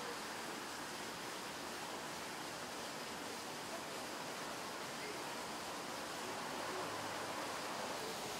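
Naturally hot spring water runs out of a mountainside in a valley, making a steady, broadband rushing wash that stays even and continuous throughout.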